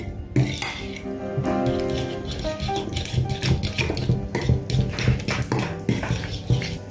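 A spoon scrapes and clinks repeatedly against a bowl while strained yogurt is stirred with a little water to loosen it for haydari, a steady run of close, busy clatter with some background tones.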